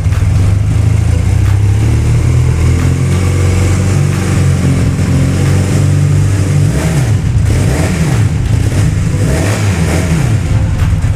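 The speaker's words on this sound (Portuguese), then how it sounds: "Olha só o ronco, galera, dessa moto." A classic Honda CB 450 motorcycle in well-preserved condition revs its engine up and down repeatedly, close and loud, with a deep throbbing note and no talking over it.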